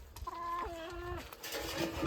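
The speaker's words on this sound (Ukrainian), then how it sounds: "Да, кури." A chicken gives a drawn-out, wavering cluck at close range in a vegetable garden, followed by softer clucking and rustling, fairly faint overall.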